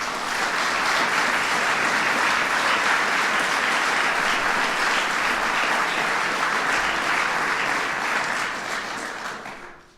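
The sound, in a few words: applause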